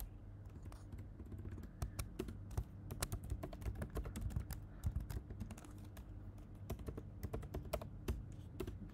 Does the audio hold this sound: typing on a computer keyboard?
yes